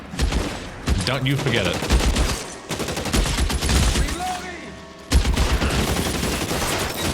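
Gunfire in the video game L.A. Noire, rapid bursts and volleys of shots that keep coming in dense waves, loud and close, with brief speech from a character.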